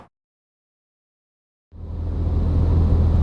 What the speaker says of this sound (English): we are now driving the Porsche 911 Carrera S